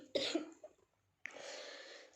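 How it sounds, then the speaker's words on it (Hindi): A person coughs once, loud and close, in a sharp burst that fades quickly. After a short silence, a steady hiss follows. "मेरे बहुत तेज़ से खाँसी आ गई थी"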